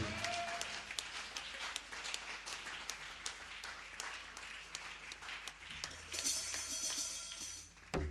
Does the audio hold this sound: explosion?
no